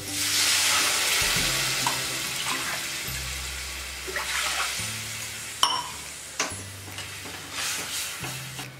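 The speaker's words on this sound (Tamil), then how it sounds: "இப்போ இதுக்கு தண்ணி ஊற்றிடலாம் வேகிறதுக்கு." Water poured into a pan of masala sautéed in oil while making atta noodles, giving a steady splashing pour with sizzling and stirring, close and fairly loud, with a few clinks near the end.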